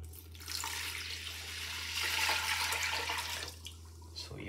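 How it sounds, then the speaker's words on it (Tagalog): A pitcher of water pouring into a gulaman and milk mixture, a soft splash that swells into a steady liquid rush for a couple of seconds and then tapers off, close by with no talk. "mag-a-add tayo ng isang pitsil na tubig"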